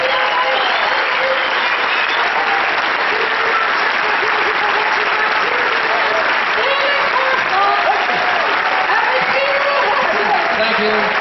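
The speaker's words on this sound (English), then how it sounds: "One more huge big round of applause." An audience at a juggling convention's opening session keeps up loud, dense applause with no break, a steady roar of many hands clapping close by.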